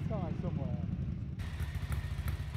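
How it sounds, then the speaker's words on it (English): A 1970s Ducati 750 or 900 bevel-drive V-twin motorcycle engine runs with a steady, low, pulsing throb that swells in after a brief stretch of talking and continues loud to the end. "Ducati's 750 and 900 bevel drive V-twins."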